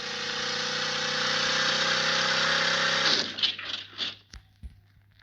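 A Ural truck engine in a car-crash driving video game drones loudly and steadily, cuts out after about three seconds, and is followed by a few dull knocks.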